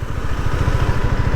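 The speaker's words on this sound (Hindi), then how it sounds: "आ गया KTM।" A KTM motorcycle engine running close by, a steady, loud, pulsing mid-pitched drone with an even throbbing rhythm and no talk over it.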